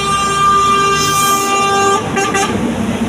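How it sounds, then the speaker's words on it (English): A sustained truck horn blares over rumbling heavy traffic and trailers at Ohoro Junction in Benin City, a busy road junction, then cuts off and leaves the traffic noise. "you have a lot of trailers running up and down and making all sort of noise alongside"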